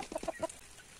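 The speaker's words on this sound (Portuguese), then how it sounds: "As galinhas estão aqui procurando um lugar para passar a chuva" Laying hens sheltering from rain give a quick burst of close clucks, several short soft calls in a row, then fall quiet against a faint background.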